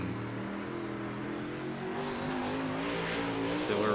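A Super Late Model race car in a racing game at Williams Grove, engine droning and climbing in pitch as the throttle comes on, loud and continuous with a slight roll-off before building again.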